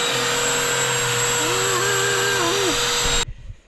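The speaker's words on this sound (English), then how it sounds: "I'm gonna start vacuuming the car a little bit with my new vacuum" A new vacuum cleaner runs loud and steady close by, pulling dog hair off a car seat in a Jeep, with a wavering pitched whine over the motor hum before it cuts off abruptly near the end.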